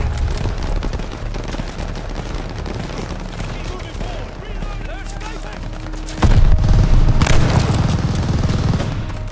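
Call of Duty: Vanguard gameplay in the Operation Tonga campaign: steady gunfire and a busy battle din, then a loud explosive burst near the middle as the RPG hits, with heavier rumbling and shouted voices after.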